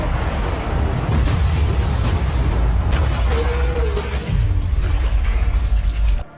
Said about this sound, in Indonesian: Tidak lama, terjadi ledakan di area itu.